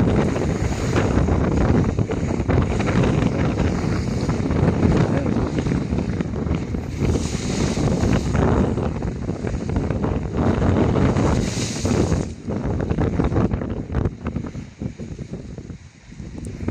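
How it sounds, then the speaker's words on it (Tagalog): Strong wind roars across the microphone over a broad rush of waves on the Taal Lake shore at Agoncillo, Batangas, loud and continuous, easing slightly toward the end. "Lakas ng alon."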